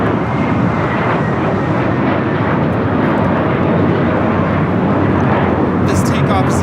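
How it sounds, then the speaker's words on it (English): An American Airlines Airbus A321 takes off at Los Angeles International Airport, a loud, broad jet engine roar that holds steady throughout, with someone talking over it. "This takeoff is American Airlines 2112 taking off to Atlanta on the A321."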